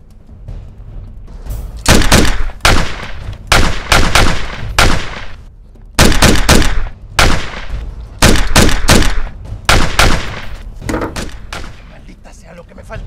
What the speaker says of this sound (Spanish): ¿Se oyen disparos?